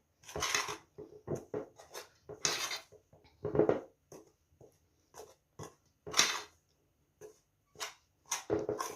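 A spoon knocks and scrapes repeatedly against a pot while stirring dough, in irregular bursts, with short quiet gaps between the strokes.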